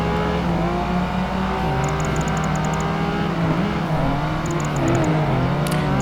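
Ferrari F40 and other race cars in Project Gotham Racing 2 during a street race, a steady loud engine drone with shifting pitch and revving throughout, no talk.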